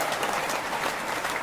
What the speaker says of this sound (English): We can give him a clap.